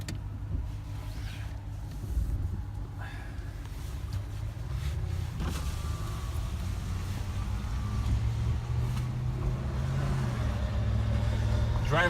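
Salvage wrecked 2017 RAM 1500 pickup truck on a road drive, a steady low engine and road rumble continuing throughout with faint rattles and rubbing noises from a damaged fender.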